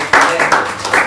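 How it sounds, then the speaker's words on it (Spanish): A classroom of students claps for a classmate in a short, loud burst, with three or four uneven surges of close hand claps over about a second. "démosle un aplauso a Iván"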